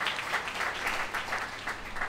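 A church congregation applauds in a steady wash of many hands clapping, moderately loud and sustained for the full two seconds with no talk over it.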